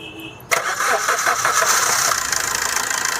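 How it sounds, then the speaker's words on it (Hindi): Common rail diesel vehicle engine cranking abruptly to life after a quiet moment, then settling into a loud, rough, steady idle nearby, with a little talk underneath. "ज़रा गाड़ी को स्टार्ट करना।"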